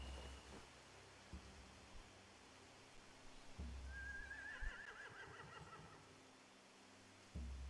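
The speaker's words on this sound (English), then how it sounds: "If we cut those horses free, we could slow down anyone trying to chase us." Horses neighing in The Walking Dead Telltale video game, a shrill whinny in the middle amid low game ambience and occasional thuds, fairly faint.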